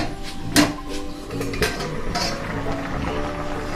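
A lid is set on a pot of chom chom boiling in syrup. There are a few sharp metallic clinks and clatters, the loudest near the start, over a low kitchen background with no talking.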